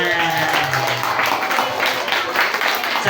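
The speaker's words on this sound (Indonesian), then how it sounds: "Beri tepuk tangan." Schoolchildren applaud at an elementary school's Prophet Muhammad birthday celebration, a dense, continuous wash of clapping from a crowded room with murmuring voices mixed in.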